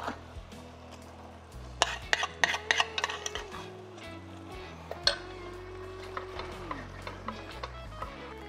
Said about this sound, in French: Et on va laisser cuire en remuant jusqu'à ce que l'eau de végétation des tomates soit quasiment toute évaporée.